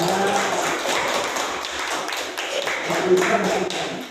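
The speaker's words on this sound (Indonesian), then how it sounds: "Tepuk tangan untuk Mas Tegar jawabannya" Pupils in an elementary school classroom clap for a classmate's answer, producing a soft, scattered patter of hand claps that swells and fades over about four seconds.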